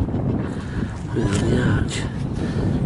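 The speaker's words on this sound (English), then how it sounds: "I've got a lot of wind right now" Heavy wind buffets an outdoor microphone in a London green space near a sculpture, a loud continuous low rumble with gusts as someone talks briefly.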